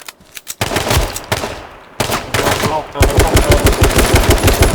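Loud rapid-fire automatic gunfire from the video game H1Z1 comes in clipped bursts, then a dense continuous stream of shots toward the end.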